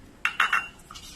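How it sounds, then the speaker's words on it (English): Dry cake-batter ingredients, including baking soda or Eno, stirred in a bowl, heard as a few quick scraping clinks of a utensil against the bowl, close and quiet, with no talk. "I'm mixing all the dry ingredients very well."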